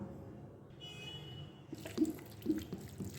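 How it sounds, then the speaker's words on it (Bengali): Raw mango pieces for mango laddu are washed in water, with soft splashing and a few sloshing swishes after a quiet start, close and fairly faint. "আমের লাড্ডুটা আমি এটাকে আবার ধুয়ে নেব"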